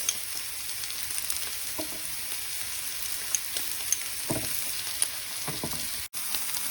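Steak and garlic cloves searing in a pan, a steady, even sizzle throughout with a few faint clinks and no talking.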